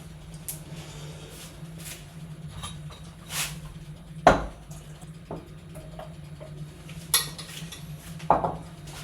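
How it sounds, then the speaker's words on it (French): Cooked pasta poured and scraped into a bowl, a few sharp clinks and knocks of utensil on dishware over a quiet kitchen hum. "et je verse mes pâtes"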